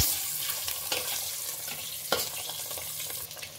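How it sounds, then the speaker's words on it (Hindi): Eggs frying in a pan for egg biryani, a continuous soft sizzle with a few faint clinks, close by and without talk. "तो हमारे अंडे जो हैं अच्छे से फ्राई हो गए हैं"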